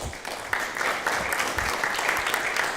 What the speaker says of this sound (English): kindly stand up so that we can be able to applaud your presence here